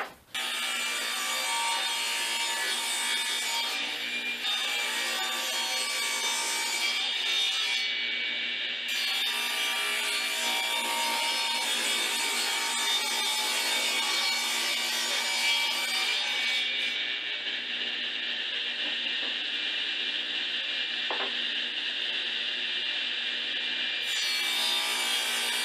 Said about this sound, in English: So we'll just do that on the table saw.